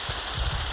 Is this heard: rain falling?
yes